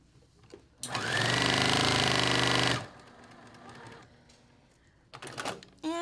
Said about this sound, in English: Sometimes when I sew really, really fast, my machine comes unthreaded.